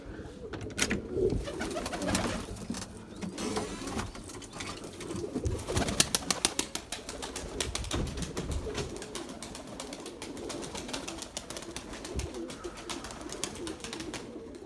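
Pigeons coo softly on a windy day, their faint calls mixed with fluttering and clattering bursts against a steady outdoor rumble.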